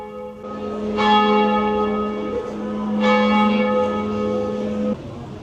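Church bells ring out in Tarascon, two loud bright strikes about two seconds apart, each leaving a long shimmering hum that hangs over faint street ambience, with no one speaking.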